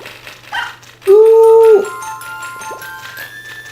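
Puppy in the Nintendogs game on a Nintendo DS/3DS during a bath: a short electronic yelp and a whimpering whine, then a held rising bark-like tone, alone and close.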